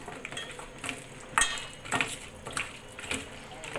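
Chicken being hand-mixed with chili powder and oil for a home-style desi chicken curry, giving soft, repeated squelching and clattering pot sounds at close range, with a few sharper knocks.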